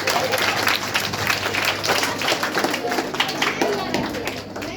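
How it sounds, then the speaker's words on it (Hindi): An audience at a science-not-magic demonstration claps loudly, a dense clatter of hands with distinct slaps that swells and eases slightly, with voices and chatter mixed in underneath. "ताली बजाइए भाई"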